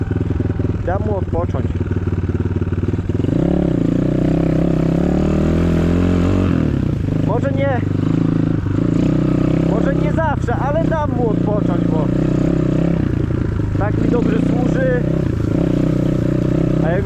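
An Apollo RFZ 250 motorcycle engine runs steadily and loud up close, its pitch rising and falling as the bike is ridden through very tall grass, with a voice talking over it at times.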